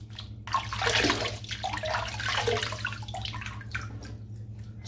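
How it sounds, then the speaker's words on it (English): Cold water is splashed and scooped onto a head before a shave, giving a continuous close wet sloshing and trickling over a steady low hum. "I'm just going to wet my head now."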